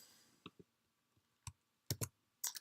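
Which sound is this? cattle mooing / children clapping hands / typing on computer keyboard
typing on computer keyboard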